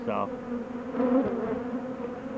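Honeybees hum steadily inside a hive opened for the first time in spring, a close, continuous buzz that holds under a brief spoken word.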